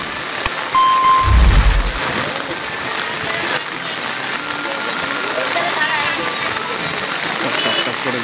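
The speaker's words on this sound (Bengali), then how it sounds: "দেখো কি জোরে বৃষ্টি পড়ছে, প্রচন্ড জোরে জোরে বৃষ্টি পড়ছে।" Heavy rain pouring down at a market, a dense continuous hiss filling the whole clip, with a brief low rumble or thump early on.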